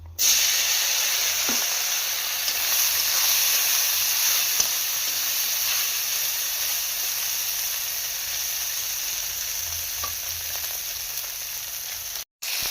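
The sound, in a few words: fish pieces frying in hot oil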